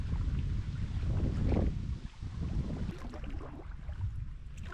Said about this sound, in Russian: Несильный ветер продолжает дуть в попутном направлении.